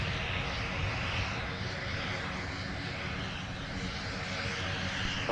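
Airliner taxiing close by at Minneapolis-St Paul airport, a steady broadband engine rumble and roar that stays constant and loud throughout without pause.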